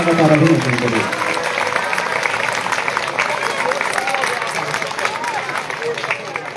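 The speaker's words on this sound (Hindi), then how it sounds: "जितनी बड़ी उपलब्धि, इतना बड़ा सम्मान और इतनी बड़ी तालियां" Sustained applause from a school assembly greets meritorious students being honoured at GMSSS Rohru boys school, a dense steady clapping wash that follows a brief voice at the start.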